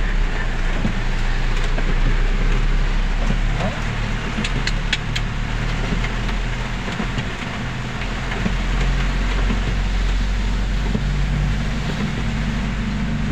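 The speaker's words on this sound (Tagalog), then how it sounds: "Lakas ng ulan guys" Heavy rain drumming on a moving car during a downpour, steady dense hiss over a low engine and road rumble, with no talk.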